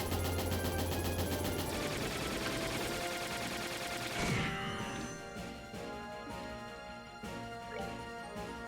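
Cannon fire from the Bobcat summon in the video game Trails in the Sky the 3rd, with a dense blast of booming shots and crashes over game music, then one sharp impact and fading echoes.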